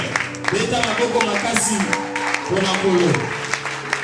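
A church congregation claps for the Lord, steady scattered applause running throughout beneath a preacher's voice and cheering, moderately loud and continuous.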